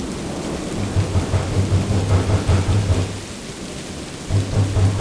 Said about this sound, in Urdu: ایسے محسوس ہو رہا تھا کہ بہت ہی تیز طوفانی بارش ہونے والی ہے، اور بالآخر یہ بارش شروع ہو گئی۔